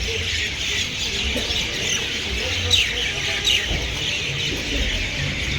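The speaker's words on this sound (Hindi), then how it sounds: "चारों तरफ पक्षियों का शोर" Birds chirp and cluck all around in cold weather at a mountain stop near Mander Pavitra Ram Kund in Poonch, a dense continuous chorus of calls with a few sharper squawks, heard over a low background murmur.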